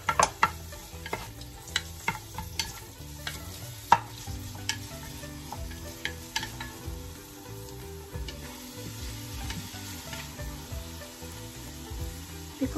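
Onion sautéing in a pan for Ilocos-style miki noodles, a low steady sizzle broken by frequent sharp clicks and scrapes of a utensil stirring against the pan.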